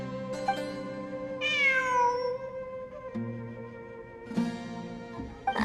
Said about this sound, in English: It really is a cat.